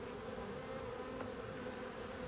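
Honeybees buzz steadily around a caged live queen in a hive, a dense continuous hum held at even loudness throughout, with no voices.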